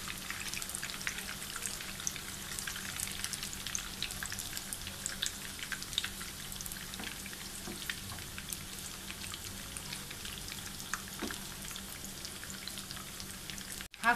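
Twelve beef gola kababs made from minced beef sizzling as they fry in hot oil, a steady close crackle and hiss with scattered pops throughout.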